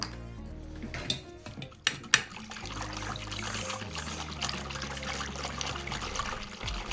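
Fresh homemade milk trickles steadily into pancake batter for traditional Ukrainian nalysnyky in a home kitchen, with a few sharp clinks of dishes early on before the pour settles into a continuous close stream.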